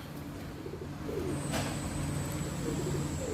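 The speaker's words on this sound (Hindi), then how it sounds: "ये कबूतर लिया" A pigeon coos softly while held in hand, during home treatment for a throat infection, a low steady murmuring coo close by over faint background hiss, with no talking.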